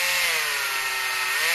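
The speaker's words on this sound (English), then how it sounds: "I'm going to try to do what Joe said not to do, which was just connect the dots using the drill bit." A drill bit grinds steadily into titanium sheet in one continuous, close, high-pitched whine with a faint tonal hum underneath, no voices.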